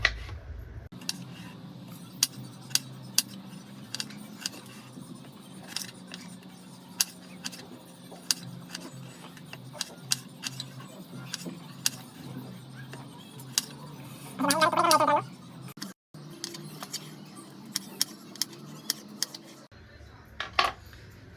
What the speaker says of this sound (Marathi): कांदा टमाटर कापून घेऊया पहिला फटाफट